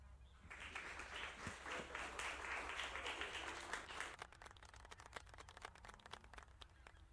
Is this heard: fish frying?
no